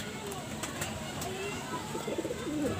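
Pigeons in a fancier's loft give soft, low cooing calls, faint and close, while someone talks over them.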